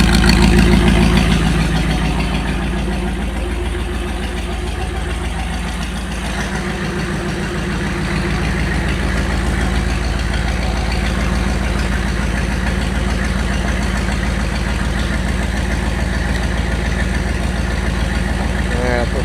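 A 7800 engine runs on all cylinders, a steady close low rumbling idle with an even rhythmic chug throughout, and a voice talks briefly over it.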